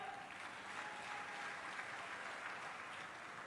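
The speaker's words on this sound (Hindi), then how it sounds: "अरे तालियां बजाओ" Steady crowd applause at an inauguration event for a bus terminal, soft and distant-sounding, continuous clapping with no talk over it.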